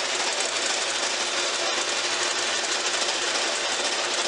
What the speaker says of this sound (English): we're at the bandsaw and the cross cut.